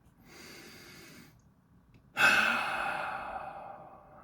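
A person takes a slow, airy breath in, pauses briefly, then lets out a sudden, loud exhale that trails off gradually. The breath is close to the microphone and no one talks.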